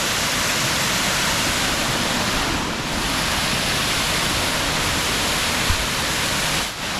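Waterfall plunging into a deep plunge pool in the Pennsylvania backwoods, heard as a loud, continuous broadband roar of rushing water, constant and close with no pauses.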